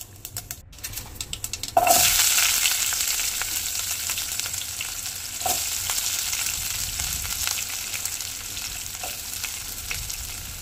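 A sudden loud sizzle erupts as onion, green chillies and curry leaves hit hot oil, then settles into a steady, bright crackling hiss that continues throughout.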